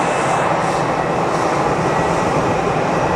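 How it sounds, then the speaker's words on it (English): A jet airliner's engines roar steadily at Geneva Airport, a loud, broadband, unbroken rush from close by that holds level throughout with no talk. "We still get to watch planes"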